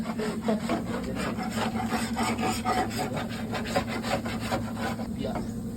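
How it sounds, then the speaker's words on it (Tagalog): Rhythmic scraping on a car body, repeated rasping strokes close by over a constant low hum, steady and even in level with no clear speech. "Kinayod na ni Kuya Pao eh"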